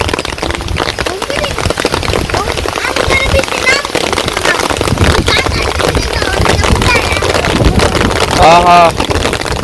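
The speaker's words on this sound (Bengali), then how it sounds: "কত বৃষ্টি নামছে" Heavy rain with hail and gusting wind in a village, a loud dense roar with constant patter and buffeting wind noise, while people talk over it.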